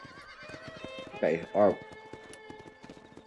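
Horse hooves clip-clop steadily through a Red Dead Redemption game scene, with two short loud neigh-like bursts near the middle over background music and ambience; a voice speaks briefly.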